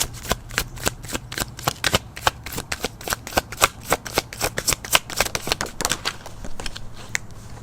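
A deck of tarot cards is being shuffled, a quick run of crisp riffling snaps and slaps in an uneven rhythm, close and clear, with a low steady hum underneath and no talking.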